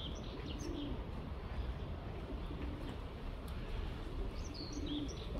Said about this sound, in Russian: Там голубей тьма.